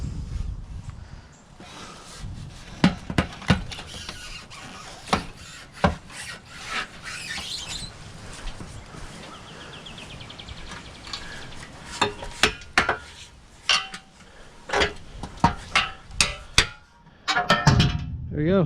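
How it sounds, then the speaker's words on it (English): Spot welds being broken apart on a Toyota Corolla body panel during a teardown, a series of sharp metallic cracks, scrapes and clanks in irregular bursts, close and fairly loud. "just broke the spot welds on that"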